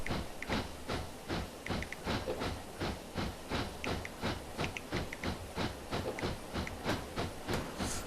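A steam locomotive chugs along the 3-foot gauge Southwold Railway in Train Simulator at about 16 mph, with steady rhythmic exhaust beats and clickety-clack wheel noise repeating evenly throughout, moderately close.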